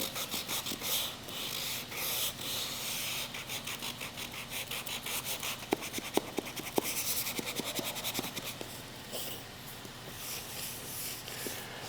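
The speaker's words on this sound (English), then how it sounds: "with my sandpaper, clean some of these end marks up" Sandpaper is rubbed by hand over end marks on a sport floor in steady, close back-and-forth strokes, a continuous scratchy rasp with a few sharper ticks partway through and no voices.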